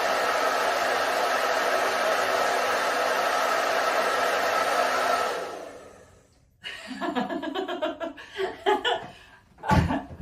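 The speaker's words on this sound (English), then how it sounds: "Just put the hairdryer over a little bit." A hair dryer blows in a loud, steady broadband roar for several seconds, warming a piece of knitting, then cuts off, followed by a few soft, close rustles and breaths.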